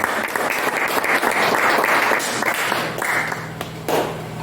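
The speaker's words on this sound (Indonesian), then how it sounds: "Tolong berikan aplaus yang meriah." An audience claps in steady, lively applause, a dense burst of hand claps that holds strong for several seconds and then thins slightly toward the end.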